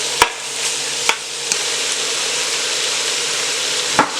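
Onions for a Thai red chicken curry sizzle steadily in a pan as they cook down, a continuous close frying hiss broken by a few sharp clicks of stirring.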